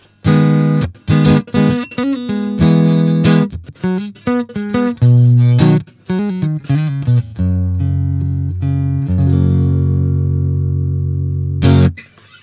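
An electric guitar plays through an amp's clean channel with all controls flat, plucked notes and chords leading into a sustained ringing chord that fades.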